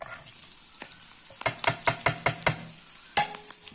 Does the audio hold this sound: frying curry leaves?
yes